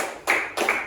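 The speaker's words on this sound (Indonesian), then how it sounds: "Tepuk tangan." Applause from a primary-school classroom during a grade 4 science lesson on plant layering, two short bursts of clapping from a small group, close and fairly loud, with no talk over it.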